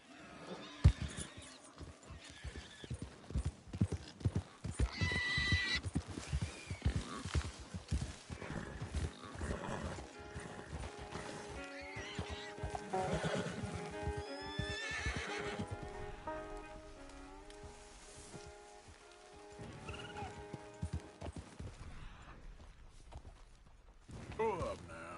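A horse in the video game Red Dead Redemption 2 gallops with rapid, irregular hoofbeats and lets out loud neighs and whinnies over about twenty-five seconds, with background game sounds throughout.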